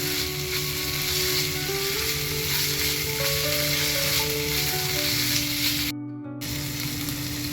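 Green chilli and ginger paste sizzles steadily in hot oil in a pan while being stirred, a loud continuous frying hiss with a brief cut near the end, no voices.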